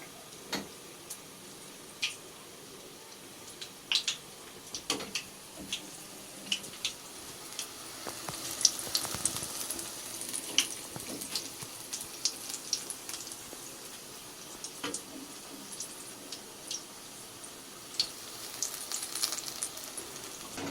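Cauliflower pakoda fry in hot oil with a faint, continuous sizzle broken by scattered crackles and pops, no speech heard.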